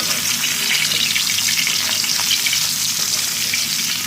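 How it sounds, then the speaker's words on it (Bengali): Hilsa fish frying in hot oil, a loud, steady crackling sizzle that holds evenly throughout with no voices. "এখানে ইলিশ মাছ ভাজতেছি, অনেকদিন পর ইলিশ মাছ ভাজতেছি হচ্ছে।"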